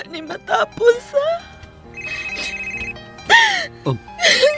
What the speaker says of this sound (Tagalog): Akong cellphone ay mitingog.